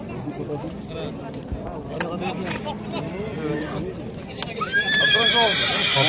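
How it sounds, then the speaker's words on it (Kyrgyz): Horses at a livestock market in Özgön, including two-year-old colts, neigh and whinny loudly near the end, with hoof clops and a busy crowd murmuring throughout. "Кунан, 2 жашар кунан экен."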